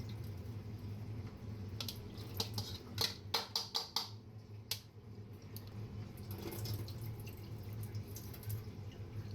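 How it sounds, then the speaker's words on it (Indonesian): Rinse water draining from freshly washed food in a home kitchen, heard as faint drips and small splashes with a cluster of light clicks in the middle, set over a steady low hum. "dibuang airnya."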